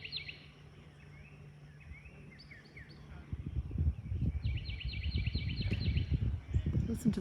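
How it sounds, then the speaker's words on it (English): Birds at Melrose Plantation chirp and trill in short repeated phrases over a quiet outdoor background, joined later by footsteps and movement of people walking around nearby. "Listen to the birds."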